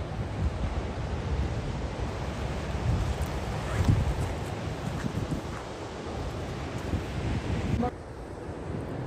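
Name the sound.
sea waves roaring on the beach at Bailmudi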